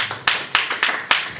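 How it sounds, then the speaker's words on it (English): A church congregation claps in a loose, uneven rhythm, sharp slaps landing every quarter second or so and decaying quickly, fairly close and loud, with faint voices underneath. "I think we should clap for her."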